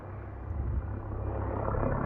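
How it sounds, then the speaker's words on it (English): A sheriff's helicopter passes overhead at night on the Arizona Trail. Its low, steady rotor rumble is heard from a distance and slowly swells. "Looks more like a sheriff's helicopter than like search and rescue."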